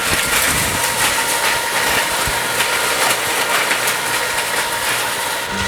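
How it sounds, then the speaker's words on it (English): An electric ice cream machine runs steadily, churning with a loud, constant motor drone and a gritty rumbling hum that stays even throughout, close and unaccompanied by talk. "Time to plug in the ice cream machine."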